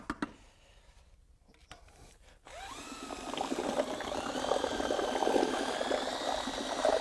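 ARDEX floor leveller is stirred in a bucket with a drill mixer, first a few clanks and scrapes, then a steady loud whirring churn of wet compound through the rest.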